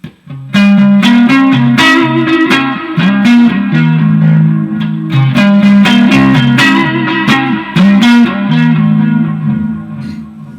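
A distorted electric guitar plays a repeating riff with heavy effects and reverb, loud and continuous, notes ringing over a low sustained tone.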